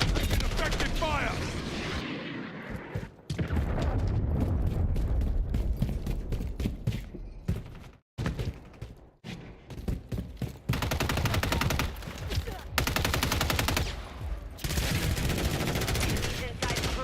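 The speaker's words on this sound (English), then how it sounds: "I'm taking fire." Rapid automatic gunfire from Call of Duty: Modern Warfare III multiplayer on the Tokyo map, loud, dense bursts with short pauses between them, mixed with game voice callouts.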